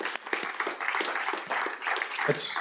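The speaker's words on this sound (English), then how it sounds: "yeah, we can clap for that." Audience applause during a panel discussion, a moderate patter of clapping under and around voices, fairly steady across the short stretch.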